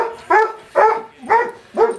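A dog barks four times in a slow, even rhythm, loud and close, each bark a short tonal yelp with a slight whimpering edge, with no talk over it.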